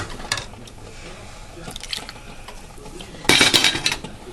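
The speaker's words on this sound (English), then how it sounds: "I'm going to grab a ladle and I'm going to take some of this sauce out of the pan and I'm going to add it into my sour cream" A ladle scoops hot paprikash sauce out of a pan and pours it into sour cream. Soft metal clinks and light liquid sounds build to a louder splash and clatter near the end.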